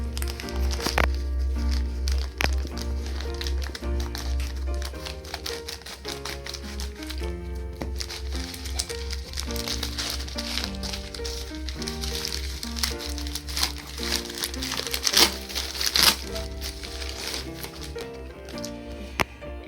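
Plastic packaging for a SanDisk Extreme 128GB microSD card being cut open and handled, with busy crinkling, snipping and tapping close by over about twenty seconds, no voices.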